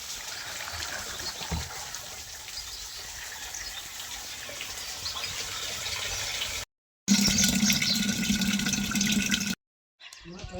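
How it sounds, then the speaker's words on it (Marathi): Drinking water running from a tap into a container at home, a steady splashing stream that continues for several seconds, cuts out briefly, then returns with a deeper filling tone before stopping. "घरातलं पिण्याचं पाणी भरून घेते."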